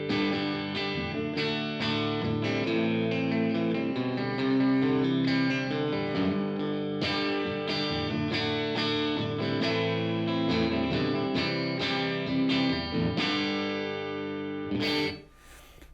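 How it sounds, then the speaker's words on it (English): Chase Bliss CXM 1978 reverb pedal set to a room reverb preset with the mix turned up, washing a dense sustained chordal instrument in continuous ambience before it drops away near the end. "I'll go ahead and turn the mix up."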